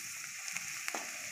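Onions frying in a pan with garlic and green chilli paste, stirred with a few soft scraping clicks over a steady, quiet sizzle, close by.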